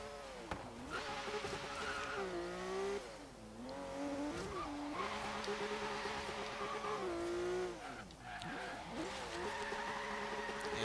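A 1971 Meyers Manx dune buggy in an off-road autocross race game, its engine revving and droning loudly with rising and falling pitch through gear changes, tires squealing and skidding on dirt, asphalt and concrete, no voice present.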